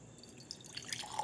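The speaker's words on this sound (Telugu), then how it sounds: "ఇలా ఏదన్నా గాజు సీసాలో పోసుకుంటే" Rosemary water poured into a glass bottle after being cooled and filtered, a soft trickling and dripping that builds slightly toward the end, close and quiet with no talk.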